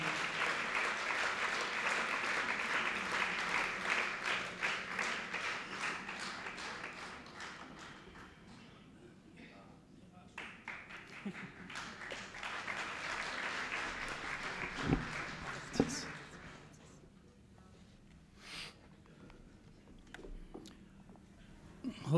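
An audience claps to welcome a speaker to the stage at a book launch, sustained applause that thins out midway, then swells again before trailing off into scattered claps and faint room noise.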